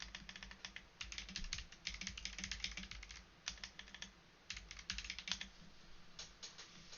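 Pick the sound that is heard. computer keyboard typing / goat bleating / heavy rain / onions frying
computer keyboard typing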